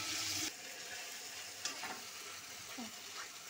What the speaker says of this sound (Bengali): আলুগুলো ভেজে নিচ্ছি।